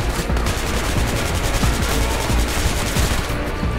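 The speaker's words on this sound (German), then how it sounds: "Und die ballern schon, bevor ich um die Ecke gehe." Rapid bursts of enemy gunfire in the video game Hatred, dense overlapping shots and rattling automatic fire filling the whole stretch, loud and continuous.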